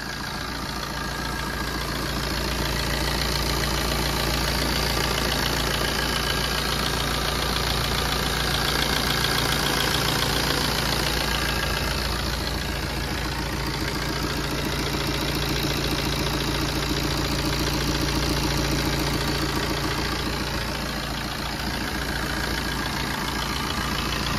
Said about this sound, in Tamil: இந்த Fiat Puntoட இன்ஜினை வந்து பார்த்தீங்கன்னா நான் ஸ்டார்ட் பண்ணிட்டேன்